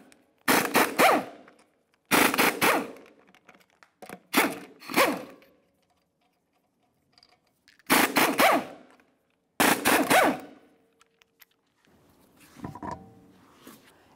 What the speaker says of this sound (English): We'll continue on by removing all five of our 19mm lug nuts and then the wheel.